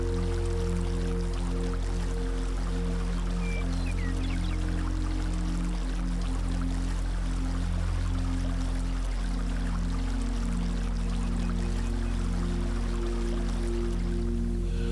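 A boiling river in Yellowstone National Park flows with a steady, dense rush of water and faint trickles. The sound runs on continuously without pause, under a low constant hum.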